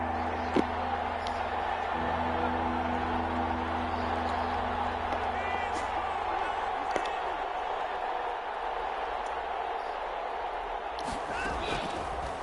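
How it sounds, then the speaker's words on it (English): Stadium crowd noise from a Madden 21 American football game, a steady roar building ahead of a big third down, running continuously under commentary with occasional thuds. "The crowd getting into it as we come up on a big 3rd down."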